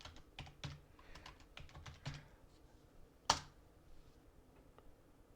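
Keys clatter on a computer keyboard in quick irregular bursts of typing, close and clear, with one louder sharp clack partway through and no talking.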